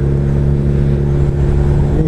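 Car engine held at steady high revs against the rev limiter in second gear, a loud, constant droning hum with strong low tones throughout.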